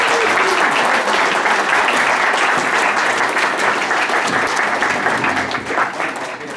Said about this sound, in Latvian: Paldies jums vēlreiz ar lieliem aplausiem!